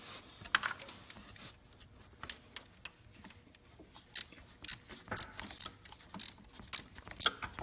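A ratcheting flex wrench works an engine bolt on a 1996–1999 Buick LeSabre GM 3800 Series II water pump job, giving faint, irregular metallic clicks and ratchet bursts against quiet background.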